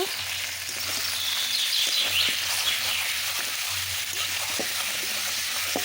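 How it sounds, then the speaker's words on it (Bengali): Chicken pieces frying with spice paste in a pan, a steady close sizzle and crackle throughout with faint stirring scrapes, no talking. "মশলার সঙ্গে আমি চিকেনটা সুন্দর করে কষিয়ে নেব পরিমাণ মতো"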